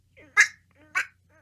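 A person mimics a duck with two short, nasal quacking bursts about half a second apart. The bursts are close and moderately loud over a faint low hum, with quieter vocal murmurs around them.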